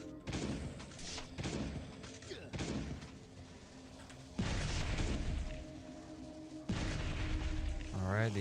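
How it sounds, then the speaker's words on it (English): Zombies blowing up in the survival video game Last Day on Earth: Survival, heavy booming blasts land around 4.4 and 6.7 seconds over continuous game noise, with earlier thuds and someone talking through much of it. "these zombies exploded"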